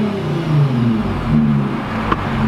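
Audi S4 fitted with JHM test pipes idles and revs with a deep, loud exhaust drone, rising and dipping in short swells, recorded up close with no talking.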